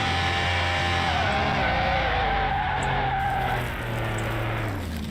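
Simulated car braking hard from high speed with a long tire skid in Car Mechanic Simulator 2021, a sustained squeal over engine rumble lasting several seconds, loud and continuous with no talk.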